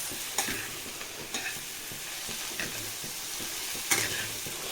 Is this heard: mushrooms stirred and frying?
yes